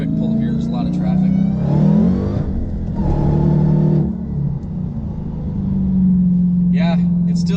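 A Dodge Hellcat in track mode accelerates hard on a public road in traffic, its deep engine roar rising through revs with quick shifts and a brief dip before climbing again, loud and close, with someone talking over it.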